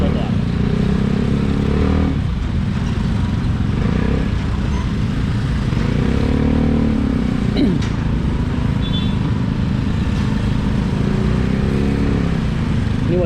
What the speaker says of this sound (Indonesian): Motor nggak bisa lewat kalau nggak naik trotoar.